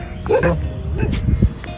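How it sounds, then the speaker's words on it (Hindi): Several street dogs yip and bark in short bursts nearby, mixed with a whimper, while a person talks over them outdoors. "यहाँ पे अभी दूसरे कुत्ते हैं"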